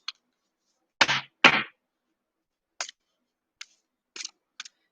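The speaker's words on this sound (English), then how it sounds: "Just finish shuffling up my cards." Tarot cards being shuffled by hand, heard as a few short papery riffles and soft clacks of the deck, close and fairly quiet, with gaps of silence between them.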